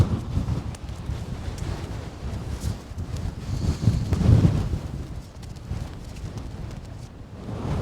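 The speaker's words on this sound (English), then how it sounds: "It's far too windy to hang about up there." Strong, bitterly cold gusts on a snowy summit near Ben Nevis in the Scottish Highlands, buffeting the microphone with a low, uneven roar that surges and eases throughout.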